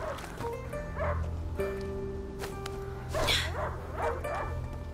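Dog barking in the video game A Plague Tale: Innocence, a few short yips and barks over a steady low game ambience, with brief whimper-like sounds in the middle distance.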